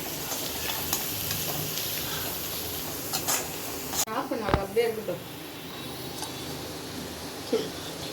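Fried rice being stirred in a pan as pepper is mixed in, a steady sizzle of frying under the scraping strokes of the spoon, with a few louder clatters midway and a voice speaking over the cooking.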